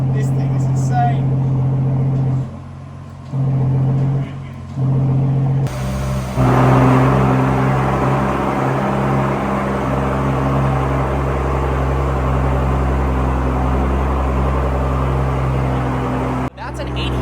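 A Mansory-built Rolls-Royce Cullinan with a loud aftermarket exhaust idles with a deep drone that drops out briefly, then catches and climbs into a sustained roaring rev, close and loud before cutting off near the end.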